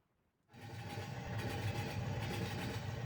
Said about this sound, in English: There's one more train available.